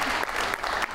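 An audience at a television talk show claps steadily and densely throughout, a loud continuous wash of applause with no speech over it.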